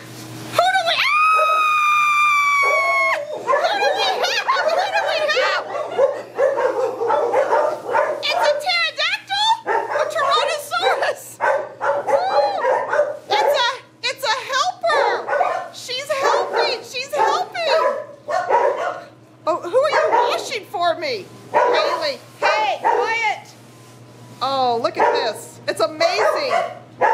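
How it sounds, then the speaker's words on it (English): Several dogs bark and yip excitedly at a kennel while the dogs are being readied for washing before a trip to a national dog show, the barking continuous and close with people talking throughout. "Look at all the wonderful dogs."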